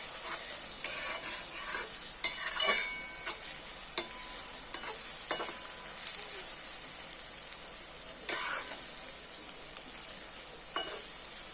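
Onions frying in a pan for a home-style chicken giblet and liver dish: a steady bright sizzle throughout, broken by intermittent scraping clatters from stirring.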